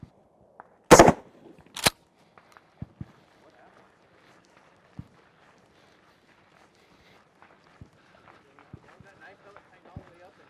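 A shotgun fires 9-pellet buckshot at a firing-range class, giving two loud, sharp blasts close together near the start, then quieter handling clicks and footsteps with faint talk in the background.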